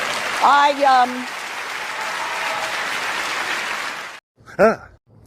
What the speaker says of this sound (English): the meaningless applause of a bunch of people who want to look like they care